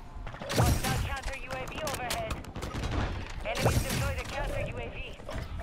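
Gunfire in Call of Duty: two loud clusters of rapid shots with scattered distant pops between them, under someone talking over game chatter.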